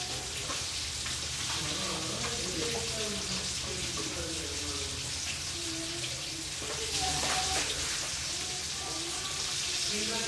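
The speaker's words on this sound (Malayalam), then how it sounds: "Fish fry." Fish frying in a pan gives a continuous hiss and sizzle of hot oil, close and steady, with faint kitchen clatter and a voice murmuring underneath.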